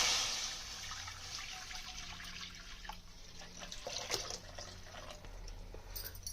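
Liquid pours steadily into a kadai pan, a liter of milk for Sindhi coconut barfi, giving a continuous close splashing and gurgling wash that holds level for several seconds.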